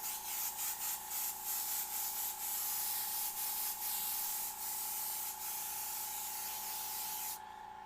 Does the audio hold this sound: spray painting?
yes